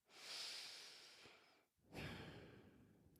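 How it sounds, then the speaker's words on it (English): A long, deep breath drawn in and let out, then a second breath after a short pause, close and fairly loud with no talking. "deep breath"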